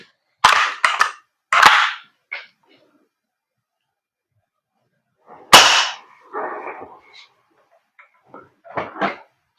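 Airsoft pistol shots fired through a chronograph, sharp sudden cracks spaced a few seconds apart, with quieter clicks and handling noises between them in an otherwise quiet room.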